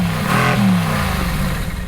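A 2016 Mercedes-AMG GT S engine, 503 horsepower, revs up with a deep, rising growl, then holds a throaty rumble that eases slightly toward the end. No voices.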